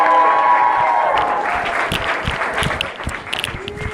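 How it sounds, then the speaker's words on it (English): Audience applause at a spoken word poetry show in Charlotte, a loud, dense round of clapping mixed with crowd cheers and whoops, steady throughout and easing slightly toward the end. "Y'all give a huge round of applause for Synergy!"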